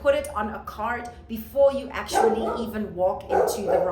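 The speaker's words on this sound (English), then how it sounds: "If you can hear my dog barking crazy" A pet dog barks and yips excitedly in a home, short bursts scattered under a person speaking throughout.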